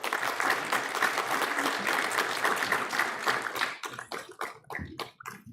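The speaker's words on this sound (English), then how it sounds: "We can clap for Kambar Rizvi." A crowd at the 4th Annual Hussain Day gathering in a courtyard gives dense, sustained applause for a speaker, which thins after a few seconds into scattered individual claps.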